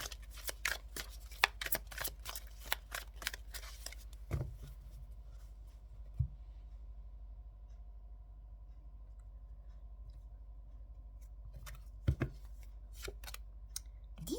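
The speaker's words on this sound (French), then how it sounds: "pendant que je tire les cartes, que je mélange" Tarot cards are shuffled in quick crisp riffles and taps, close up, in bursts at the start and end with a quiet stretch between and a low steady hum underneath.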